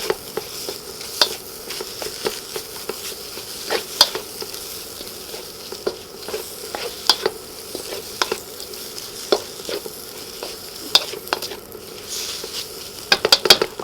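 Cabbage and other vegetables stir-fried in a pan for zucchini noodles, a steady sizzle broken by frequent sharp scrapes and taps of a utensil stirring, close and fairly loud with no talk.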